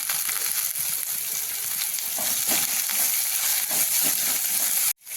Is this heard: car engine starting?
no